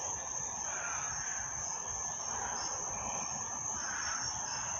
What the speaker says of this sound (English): I'm not talking about the crickets, the cicadas, and all the cars whizzing by.